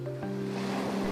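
Ocean surf rolls in steadily along a shore where seawater is hauled in baskets for traditional salt making, a continuous close wash of water with a faint tonal hum underneath.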